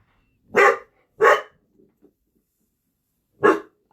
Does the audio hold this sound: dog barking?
yes